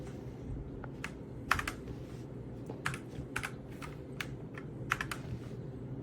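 Typing on a Redragon K668 RGB 108-key wired mechanical gaming keyboard, a quick irregular series of crisp key clicks, close and fairly quiet over a steady low background hum.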